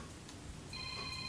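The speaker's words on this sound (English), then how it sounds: "Sorry about my phone ringing." A mobile phone rings faintly in a quiet room during a homemade book-binding craft session, a short soft electronic ringtone tone that brightens partway through.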